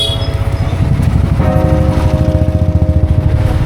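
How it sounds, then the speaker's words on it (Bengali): A motorcycle engine runs close by with a loud, steady, throbbing idle that pulses rapidly and evenly throughout. "চলো আমাদের বাইকের কাছে এসে গেছি।"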